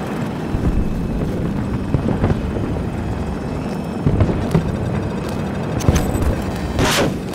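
An enemy helicopter roars loudly through a large Battlefield 2042 Conquest match, a dense rotor rumble laced with distant booms and crackling gunfire.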